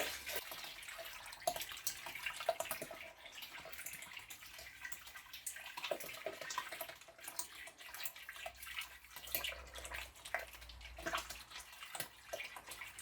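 Sparge water trickles and splashes steadily into the mash of a homebrewed black IPA, a soft continuous pour with small irregular spatters.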